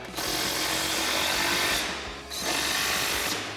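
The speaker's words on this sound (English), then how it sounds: "Now we'll come back and tighten all these down with our 13mm socket on our impact" Impact wrench with a 13mm socket tightening bolts on RAM 1500 side step bars, one loud, continuous close whir, a brief dip, then a second burst.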